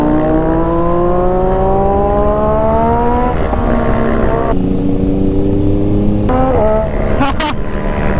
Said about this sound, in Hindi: चाचा फुल थ्रॉटल दिए।